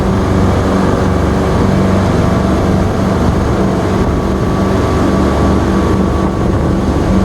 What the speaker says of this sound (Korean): 아 엔진 소리